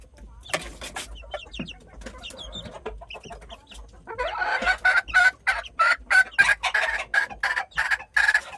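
A broody mother hen, just moved away from her chicks, clucks loudly in a fast, steady rhythm, with thin chick peeps underneath.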